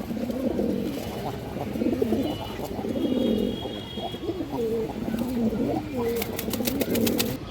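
Several pigeons in a Bangladeshi loft keep up a steady murmur of overlapping low cooing, with someone talking nearby and brief sharper chirps near the end.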